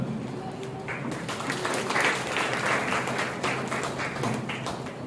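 A church congregation at an Easter Sunday service claps with joy, steady dense applause running the full length, fairly close and lively, with some voices mixed in.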